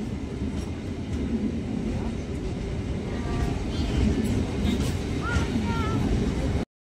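A MEMU commuter train pulls into a platform at Azimganj Junction, a steady rumbling roll with faint squealing wheel and brake tones rising near the end, continuous and fairly loud throughout.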